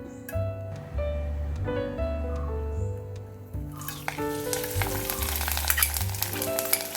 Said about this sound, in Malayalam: നമുക്ക് വെളിച്ചെണ്ണ ഒഴിച്ച് കൊടുക്കാം കേട്ടോ